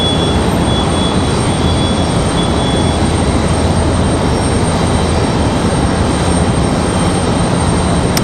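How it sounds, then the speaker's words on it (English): An Air France Boeing 777 pushing back at an airport, its steady engine and ground-equipment roar broad and continuous, with a faint high whine running throughout, moderately loud and unbroken. "As you guys can see, Air France and that 777 pushing back."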